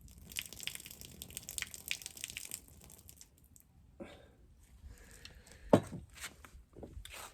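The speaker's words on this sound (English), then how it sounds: "you pour out your hot water" Hot water is poured from a jug over medium-coarse ground coffee in a glass Chemex brewer, a soft close trickle with small splashes and clinks in a quiet room.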